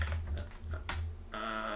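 Quick clicks from a computer keyboard, a short burst of uneven, close key taps, followed by a steady hum.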